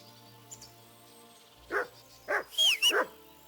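A dog in the video game Kingdom Come Deliverance 2 gives a few short barks close by, followed by a quick run of higher yips and whimpers over a quiet ambient background.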